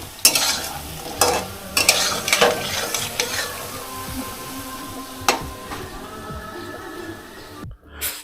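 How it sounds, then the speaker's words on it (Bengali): Bora fritters frying in a home kitchen pan, with a steady sizzle broken by several sharp clanks and scrapes of a spatula stirring, close and fairly loud, with no talking. "এই যে বড়া ভাজা চলছে।"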